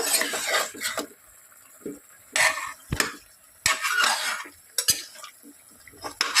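Chicken biryani stirred in a pot with a spoon, producing irregular scraping and clinking bursts separated by brief pauses, fairly close and alone with no talk.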